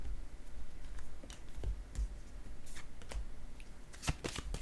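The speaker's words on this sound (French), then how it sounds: "Je vais choisir une autre carte." Playing cards are shuffled and riffled in short bursts of papery flutter and snaps, close and fairly loud over a steady low background hum, with no talking.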